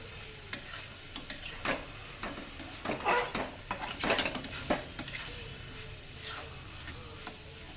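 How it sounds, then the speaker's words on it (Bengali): Egg and potato curry stirred in a wok over high heat, with repeated scraping strokes of a spatula against the pan over a soft sizzle, irregular and close. "এবারে যতক্ষণ না শুকনো হয়ে আসছে আমি নাড়তে থাকবো কড়াই।"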